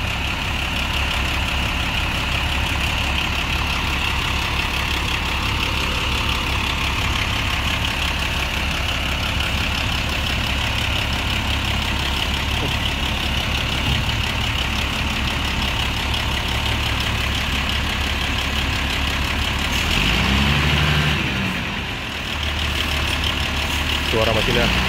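The diesel engine of a Po Santoso Jetbus 2 coach idles at the Poris terminal before the morning departure to Jogja via Magelang. It gives a steady, loud, unbroken low rumble for nearly half a minute, with people talking in the background.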